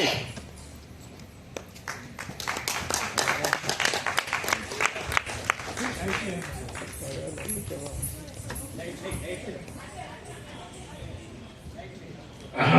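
Audience applause after an Annadata dance drama performed by Trailokya Arts Academy, a dense crowd clapping that swells and holds steady at a moderate distance, with voices mixed in beneath it.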